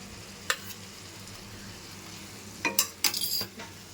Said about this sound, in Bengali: এখন হচ্ছে এই রসুন বাটা, আদা বাটা, লঙ্কা বাটা দিয়ে একটু নাড়িয়ে নেব আমি।